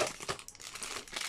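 A small sugar sachet packet is crinkled by hand, giving quick close crackling rustles in short bursts, fairly quiet and with no talk.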